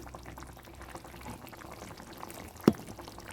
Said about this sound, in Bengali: ভালো করে সাঁতলে আমি গরম জল দিয়ে দিলাম